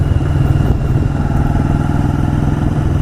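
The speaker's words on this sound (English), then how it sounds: "And the bike is running great." A 1985 Yamaha Virago motorcycle engine runs steadily up close, a loud, continuous low-pitched throb with a rapid even pulse and no voices over it.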